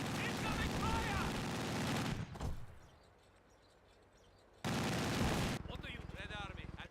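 Dense gunfire and explosive battle noise from the World War II strategy game Company of Heroes 2, loud and continuous in two bursts separated by a quieter lull.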